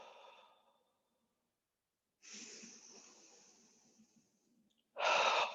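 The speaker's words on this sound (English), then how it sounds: "exhale through the mouth" Slow, deep exhalations through the mouth during a stretching breathing exercise, each a soft breathy rush of air separated by quiet pauses, with the last breath louder and closer.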